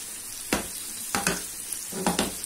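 Chicken malai tikka fries in oil in a pan over a high flame, giving a constant hissing sizzle broken by three sharp scraping stirs, close and alone.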